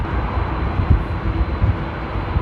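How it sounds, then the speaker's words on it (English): A TUI Boeing 787 Dreamliner at Amsterdam Airport during stormy weather gives a steady, continuous jet roar with low rumbling gusts, moderately loud and unbroken throughout. "Enjoy the TUI Dreamliner."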